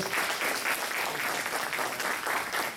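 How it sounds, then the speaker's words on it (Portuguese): Audience applause at a panel discussion on integrated secondary education at a federal institute: sustained, dense clapping from a crowd, steady and fairly close, with no talking over it. "o professor Gaudêncio Frigoto, peço uma salva de palmas, por favor."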